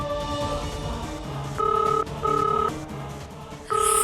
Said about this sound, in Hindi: फोन उठाइए प्लीज।